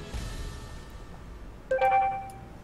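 A short phone notification chime, a few bright tonal beeps, sounds once near the end after a quiet stretch of background noise.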